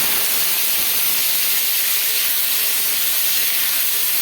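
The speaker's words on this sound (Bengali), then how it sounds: "তেলটা গরম হয়ে গেছে, আলুটা দিয়ে দেবো।" Potatoes go into hot oil in a wok for a vegetarian cabbage ghonto, giving a loud, steady hiss of frying that fills the whole stretch with no voices.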